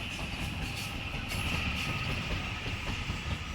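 Tangara electric train passing through Epping station, a steady rumble with a sustained high whine and faint wheel clatter, moderately distant and even throughout.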